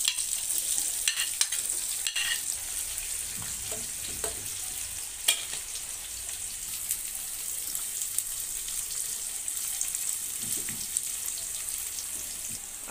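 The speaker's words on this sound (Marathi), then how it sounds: "राई जिरं चांगलं तडतडल्यावर आता आपल्याला त्यामध्ये कांदा परतून घ्यायचा" Chopped onion sautés in hot oil tempered with popping mustard seeds and cumin, giving a steady, close sizzle with occasional spatula scrapes and clicks against the pan, and no talking.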